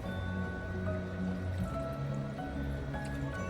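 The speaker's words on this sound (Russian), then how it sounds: "Постоянно приходится доливать воды." Water topped up by hand into the hydro cooling loop of an Antminer Z11 miner, a soft steady filling trickle with faint drips, close and quiet over a low machine hum.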